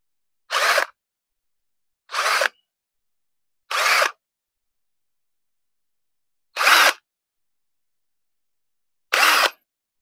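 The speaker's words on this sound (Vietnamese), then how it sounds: "Mũi thứ ba chúng ta sẽ khoan tiếp tục." A power drill bores holes into a rubber tree trunk in a plantation, five short separate whirring bursts of about a second each with silent pauses between, heard close and alone.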